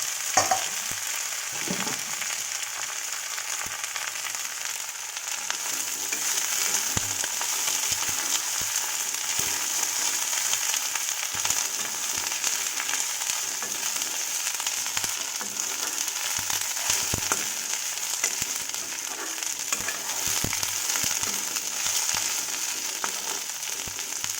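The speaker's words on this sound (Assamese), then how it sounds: "এতিয়া ছজনা পাতখিনি দি পানী নিদিয়ালৈকে মই অলপ সময় ভাজি থাকিম" Leaves fry in a pan with a steady, crackling sizzle, broken by occasional stirring scrapes throughout.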